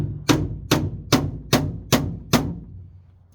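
A hammer strikes a bump out of a pink Jeep's metal body panel: six sharp, evenly spaced metallic blows, close and loud, each ringing briefly before the next.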